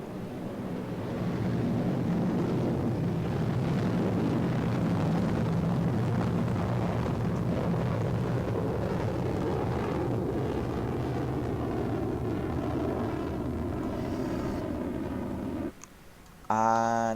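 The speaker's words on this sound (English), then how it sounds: "this is the cool part because the rocket actually launches" A rocket launching in a Minecraft PE space addon, a steady loud roaring rumble that holds for about fifteen seconds and then cuts out abruptly.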